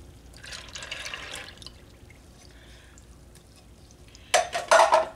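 Milk and evaporated milk pour into a crockpot over rinsed macaroni for mac and cheese, first as a soft splashing trickle, then as a louder burst of liquid splashing near the end, close up in a quiet kitchen.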